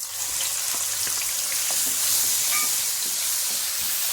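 Asafoetida sizzles in hot oil close by before onions are added for tempering: a steady bright hiss scattered with small crackles and pops.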